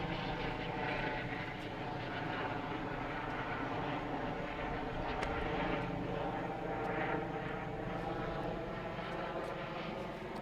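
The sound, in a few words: police helicopter flying overhead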